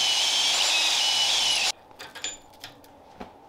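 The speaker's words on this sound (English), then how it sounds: "Now, I'm gonna go ahead and drill a hole through here, and we're just gonna pin it on with something." A drill boring a hole through a shaft coupler whirs loudly and steadily for nearly two seconds, then cuts off abruptly, leaving scattered soft clicks and handling knocks.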